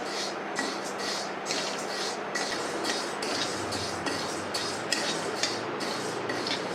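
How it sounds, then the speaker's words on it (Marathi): Dal being dry-roasted in a pan for a traditional matki amti, stirred with a utensil that scrapes and clinks against the metal in quick repeated strokes over a steady dry rustle. "डाळ अशी व्यवस्थित अशी खमंग छान लालसर भाजून घेऊ।"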